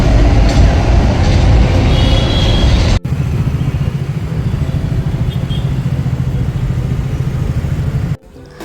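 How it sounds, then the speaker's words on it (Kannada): A Bengaluru metro train rumbles past nearby, a loud continuous roar of wheels and motors that holds for several seconds, with an abrupt cut partway through and a sudden drop at the end; no talking. "ಇಲ್ಲಿ ಮೆಟ್ರೋ."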